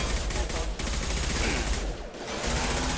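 Dense, continuous gunfire fills a Mass Effect 2 firefight, sustained rapid bursts close and loud throughout.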